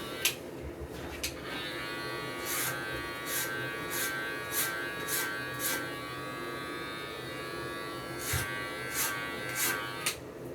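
Electric hair clippers buzz steadily at moderate distance while blending hair at the back of a head, with a continuous motor hum broken by brief clicks and scratchy strokes.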